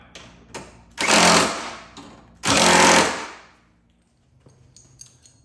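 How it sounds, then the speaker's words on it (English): Two loud bursts of a power tool or impact wrench run down bolts on a Fiat 500 hood support bracket, each about a second long with a short pause between them, then a few faint clicks. "once you get them started, then just tighten them down"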